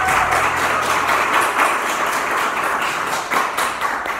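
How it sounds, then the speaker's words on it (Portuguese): An audience claps for a musician at an intimate Pocket Sundays music night, a loud, dense patter of hands that runs without a break and ebbs slightly toward the end. "palmas, por favor"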